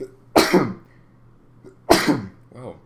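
Two loud, close sneezes about a second and a half apart from someone talking about Kingsley Coman and Bayern Munich's Champions League win, with a brief word spoken between them.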